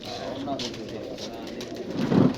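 Pigeons at a breeder's loft outside Lahore give soft, low, muffled coos, with a fuller coo swelling near the end, while voices murmur in the background.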